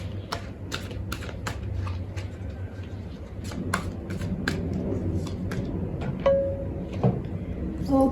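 A tarot deck is shuffled by hand at close range, producing quick riffling card flutters in bursts over a low background hum, with a few soft taps between them.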